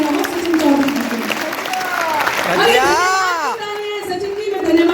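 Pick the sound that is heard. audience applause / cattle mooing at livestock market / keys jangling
audience applause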